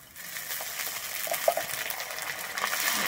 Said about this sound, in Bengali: আদাটা দিয়ে একটু ভালোভাবে ভেজে নেব, আদা থেকে যাতে আমার কাঁচা গন্ধটা চলে যায়